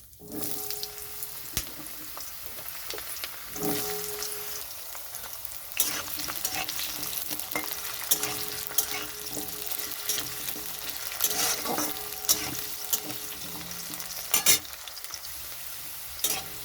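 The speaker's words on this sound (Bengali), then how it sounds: "আলুটা একটু ভাজা হয়ে গেছে" Potatoes with whole dried chillies and cumin frying in mustard oil in a wok, a steady close sizzle with recurring sharp stirring scrapes and clatters throughout, no voices.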